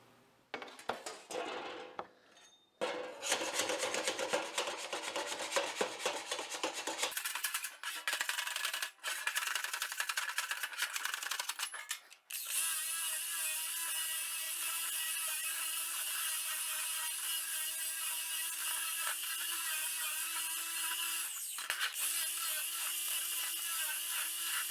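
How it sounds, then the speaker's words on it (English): Slag is cleaned off a steel piece with metal tools, first in harsh scraping and rubbing strokes, then in a loud continuous grinding whine that runs close up with no talk. "So next step is to clean this piece up. Still got some slag on it. Let's clean that off."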